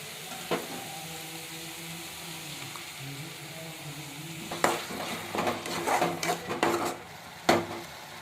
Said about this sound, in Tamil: இப்போ இந்த தக்காளி சேர்த்து ஒரு 2 நிமிஷம் நல்லா வதக்கிக்கலாம்